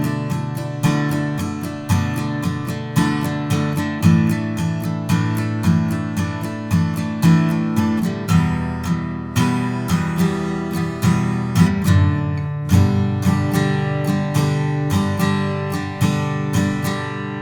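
Acoustic guitar strumming the second-chorus chords in standard tuning, steady rhythmic strums with chord changes, close and clear, with no talking.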